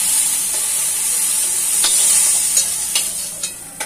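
Green chillies fry on a hot tawa with a steady bright sizzle, while a few soft scraping stirs tap through near the end; close and fairly loud, no voices.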